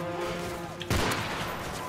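Gunfire in the Modern Warfare 3 video game: a sudden loud burst of shots erupts midway and fades into a noisy tail, preceded by a quieter tonal game hum.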